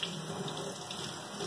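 Cold water runs from a tap at a sink in a steady, soft hiss, quiet and close, with no voices.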